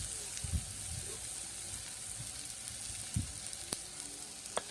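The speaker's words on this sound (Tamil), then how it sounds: "வெங்காயம் நல்லா பொன்னிறமாக வர வரைக்கும் நல்லா வதக்கி எடுத்துக்கலாம்" Onions sizzle in hot oil in a village-style kitchen for chicken gravy, a steady frying hiss throughout with occasional stirring knocks and clinks.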